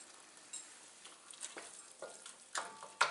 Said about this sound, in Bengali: খুন্তি দিয়ে ভালো করে নেড়ে আমি আলুর যদি কোনো বড় পিস বা ডেলা থেকে থাকে সেটাকে ব্রেক করে নিলাম